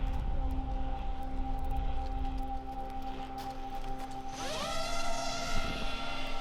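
Ukrainian attack drone lifting off on the front line in fog, a steady high-pitched motor whine that climbs sharply in pitch as it takes off and flies, loud and close throughout with no talk.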